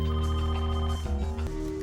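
A landline telephone rings steadily and fairly loudly, its tone continuous across the short span with no talking over it.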